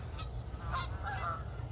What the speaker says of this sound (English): I'll show you the duck is coming to my area.